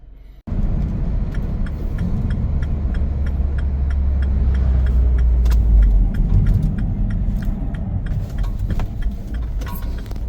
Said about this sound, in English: Hear those poor brakes grinding away